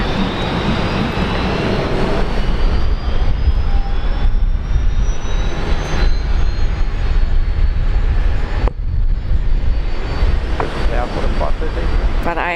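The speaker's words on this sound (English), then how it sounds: "the Fokkers are coming alive down there" Fokker aircraft engines spooling up on the apron at Brisbane Airport, a loud sustained whine rising steadily in pitch over a heavy rumble, with people talking intermittently nearby.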